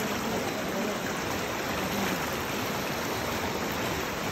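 The Karnali river rushes past the Jamara intake in a dense, steady roar of flowing water. The sound is loud and unbroken throughout, with no pauses or separate events, and no one speaks.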